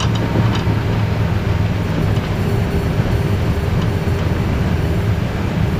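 Steady, loud roar of airliner engines in reverse thrust during the landing rollout at Dresden airport, heard from the cockpit as a continuous broadband rumble with a strong low end and no talk.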